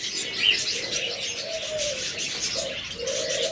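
A pair of splendid parakeets chirps and coos nearby, soft drawn-out tonal calls repeating over a steady background hiss, with a few sharper high chirps mixed in.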